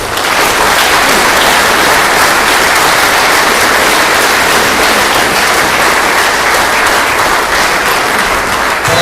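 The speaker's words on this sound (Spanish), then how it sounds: "Un fuerte aplauso al Señor." A congregation at a church men's congress bursts into loud, sustained applause for the Lord, dense clapping filling the room without pause.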